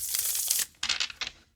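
Fantastical Creatures tarot cards are shuffled up close: a quick riffling flutter, a short pause, then two more crisp papery bursts of cards slipping together.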